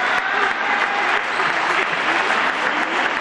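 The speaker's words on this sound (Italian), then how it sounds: "L'applauso del palazzetto intero per lei." A whole indoor arena applauds an injured player at a women's Serie A1 handball match, Mestrino against Casalgrande, with sustained, even clapping filling the hall.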